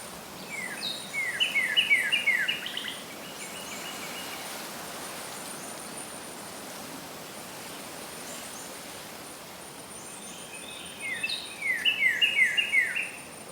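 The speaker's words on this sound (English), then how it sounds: "listen to the wind blowing through the trees and the birds singing" Birdsong chirps in two bright bursts, at the start and again near the end, over a steady soft outdoor hiss of wind through autumn trees with a faint insect-like drone.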